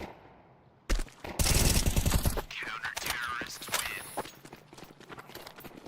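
Rapid bursts of E250 machine gun fire ring out in a Counter-Strike-style match on the Nuke map, loud crackling volleys with metallic clatter, while a commentator talks over the action.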